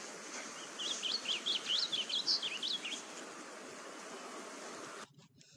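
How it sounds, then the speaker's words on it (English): Grosbeak song: a rapid, raspy, buzzy run of chirped phrases lasting about two seconds, moderately near over a soft outdoor hiss with faint insect or stream noise, then the ambience cuts off. "It's a little bit more of kind of a raspy or like a buzz sound."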